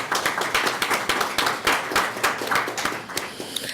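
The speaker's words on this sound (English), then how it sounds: "I want to give you a big round of applause" Audience applause at a youth agenda presentation: a small crowd claps in a brisk, uneven patter of distinct hand claps, fairly close and steady throughout, with no talking.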